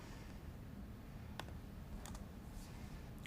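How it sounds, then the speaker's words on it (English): Keys on a computer keyboard are typed faintly in a quiet room, a few scattered clicks and short bursts over steady background hiss, with no talking. "so I'll type that in now"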